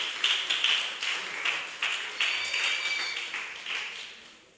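Audience applause for a certificate winner at the Uganda National Hopes Challenge 2024, a steady wash of many hands clapping in pulsing waves that gradually fades, with no voices over it.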